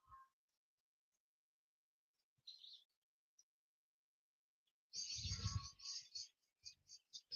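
Morning birds give a few faint, scattered chirps amid near silence, then a louder burst of overlapping song and calls from birds nearby.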